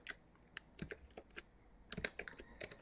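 Keys clatter on a computer keyboard as a terminal command is typed, irregular clusters of close, crisp clicks with short pauses between bursts.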